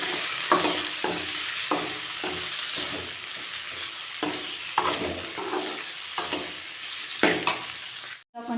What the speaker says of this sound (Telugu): దీంట్లో వంకాయలు యాడ్ చేస్తాం. బాగా వేయించుకోవాలి.